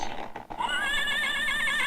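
A horse neigh sound effect rings out loud and close, a long wavering whinny that rises after a brief pause and holds steady to the end, with no talking over it.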